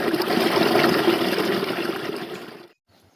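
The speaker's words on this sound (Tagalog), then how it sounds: "ang tubig na dumadaloy pababa sa kahoy na ito ay bumaba na ang level." Water runs down a wooden sluice used for gold panning, a steady close rushing trickle that fades and then stops abruptly near the end.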